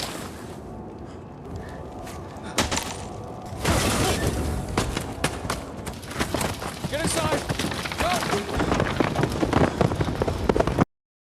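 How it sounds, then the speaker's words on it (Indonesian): Dense, rattling patter of hail pelting a surface, steadily intensifying into a heavy clatter, with a voice faintly underneath. "langit menurunkan hujan es yang cukup deras"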